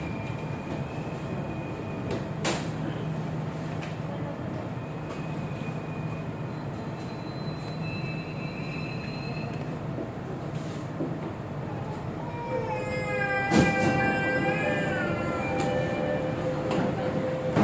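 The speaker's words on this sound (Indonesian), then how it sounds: "Dan ini keretanya akan segera berangkat ya guys ya." A Jakarta MRT train waits at Bundaran HI station before departing for Lebak Bulus, with a steady low rumble of the carriage, several short bright chimes and beeps, and a rising electric whine near the end, with no voices.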